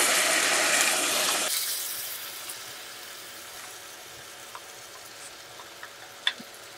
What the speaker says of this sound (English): I'm gonna pour a little bit of this broth off here.